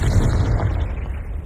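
Confringo blasting spell from Hogwarts Legacy going off as a loud, sustained booming explosion with heavy low rumble, lasting the whole moment without any talk.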